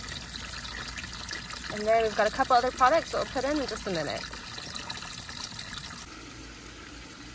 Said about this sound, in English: we're gonna put some of this right into the water where the hose is pouring out